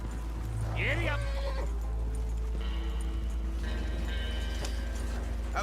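Horse hooves clip-clopping in a steady riding gait in the Red Dead Redemption 2 video game, set amid tonal game music with a brief whinny-like call near the start.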